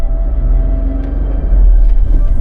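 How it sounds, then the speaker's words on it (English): A Renault Triber's 3-cylinder engine idles with a low, steady rumble close by, a slight lift in the throb near the end. "right off the bat you can hear this 3-cylinder engine purrs"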